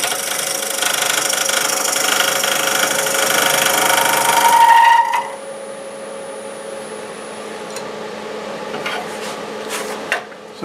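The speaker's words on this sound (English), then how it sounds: "I'll show you a little bit of the cuts here and the fine shavings that come off of it. Doing about 750 RPM." Wood lathe spinning at about 750 RPM while a carbide scraper cuts fine shavings, a dense broadband rasping whir with a tonal hum for several seconds, then cutting stops and a quieter motor drone remains with a few light clicks.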